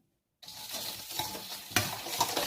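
Ingredients with garlic powder being mixed with olive oil in a bowl, a wet, continuous stirring and squelching that starts abruptly after a brief silence, close with a few sharper clinks, no talking.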